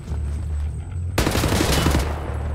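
Enemy gunfire in Wolfenstein: The New Order erupts suddenly as a loud, dense burst of automatic shots after a quiet stretch, continuing rapid and close for over a second.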